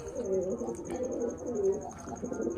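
Pigeons coo in low, rolling repeated phrases close by, several throaty calls following one another with faint background chirps and no speech.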